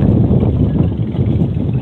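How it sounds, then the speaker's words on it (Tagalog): Strong wind buffets the microphone with a loud, continuous low rumble and gusty roar. "Sobrang hangin siya guys."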